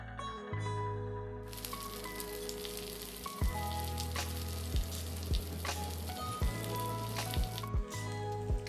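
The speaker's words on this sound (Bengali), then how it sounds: "তেলটা গরম হয়ে এলে এক এক করে বেগুনগুলো দিয়ে দিব" Eggplant slices frying in hot oil over a medium flame, a loud, steady sizzle with several dull thumps and clicks as pieces are placed or shifted in the pan.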